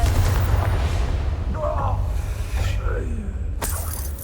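A Confringo fire spell blast in the video game Hogwarts Legacy rumbles as a heavy low roar with crackling, shattering bursts over a few seconds, with brief voice-like sounds mixed in beneath it.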